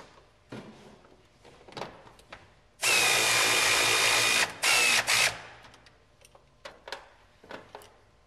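A power tool whirs on steering column mounting bolts in a 1976 Ford Bronco, one sustained burst of about two seconds and then a shorter one, with scattered clanks and handling knocks before and after.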